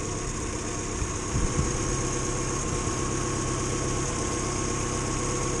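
A sweet-running small engine, just fired up, idles steadily on tick over as it warms, a smooth continuous hum with a faint mechanical knock around the middle.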